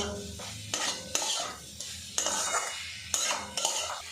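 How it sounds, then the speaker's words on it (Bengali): Egg cooks with bhujia masala in a pan as a spoon stirs and scrapes in repeated sharp strokes over a soft sizzle, close and clear with no talk. "এবারে এর মধ্যে দিয়ে দেব ডিম ভুজিয়া মশলার সাথে কিছুক্ষণ নাড়াচাড়া করে নেব"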